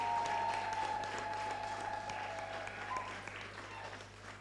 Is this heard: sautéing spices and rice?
no